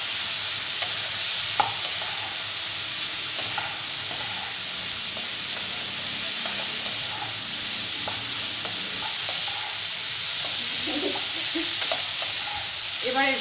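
Cauliflower and potatoes frying in oil with ground cumin in a home kitchen, a steady soft sizzle and hiss with light stirring clinks and scattered pops, no talking.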